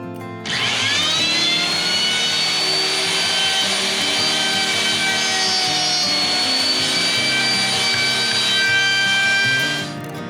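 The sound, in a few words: router cutting dovetails with a collared dovetail bit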